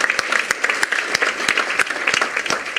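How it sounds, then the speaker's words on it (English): Enthusiastic applause from an audience for youth presenters at a regional tourism youth congress, a dense, steady wash of many hands clapping throughout, with faint voices mixed in. "Give a round of applause"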